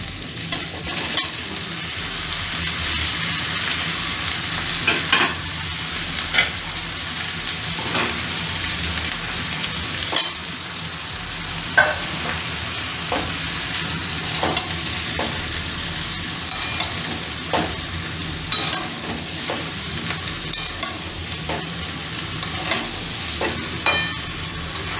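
Chicken pieces sizzle in hot oil with aromatic spices for kung pao chicken, a steady frying hiss broken by repeated sharp scrapes and knocks of a spoon stirring the pan, close and alone without talk.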